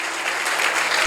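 A short burst of crowd applause in a church service, steady broadband clapping that swells slightly louder at the very end.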